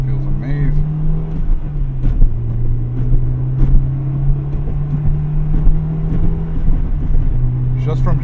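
A 1998 Acura Integra Type R on the road from the driver's seat, its engine droning steadily with shifts in pitch and road noise throughout.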